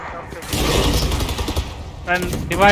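Phantom rifle fire in a Valorant esports match: a dense, loud burst of rapid shots and game effects, with a caster's voice rising over the action near the end.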